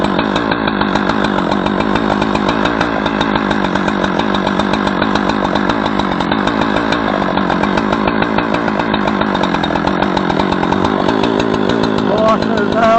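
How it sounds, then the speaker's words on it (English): A chainsaw cuts into a dead pine tree in a yard near power lines, its engine snarling loud, close and steady throughout with a brief dip near the end. "I got the chainsaw now, as you can hear."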